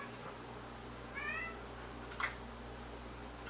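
A cat meows faintly in a living room full of filming equipment, one short plaintive meow followed by a brief chirp over a steady background hum.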